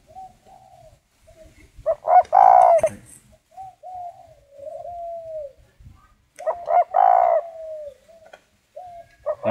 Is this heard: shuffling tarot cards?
no